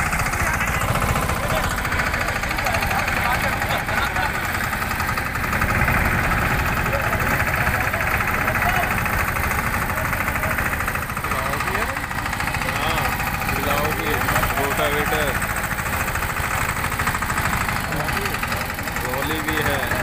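A small Massey Ferguson 5118 20HP tractor idles with a loud, steady, rattling engine chug that runs without pause while someone talks over it.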